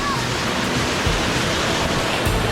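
A waterfall roars with a constant, dense rush of falling water, loud and close, filling the whole moment without break.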